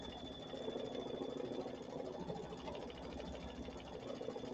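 A computerized quilting sewing machine stitches at a steady, even pace, its close mechanical hum running continuously without pause or talk.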